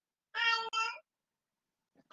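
A house cat meows twice in quick succession, close and fairly loud, with a short pause between the two calls, then quiet follows and a faint voice begins at the very end.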